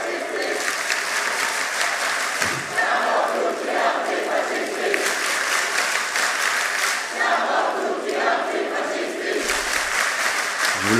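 A large crowd at a rally cheers, chants and claps in a loud, continuous roar with rising shouted surges, heard as playback from a video.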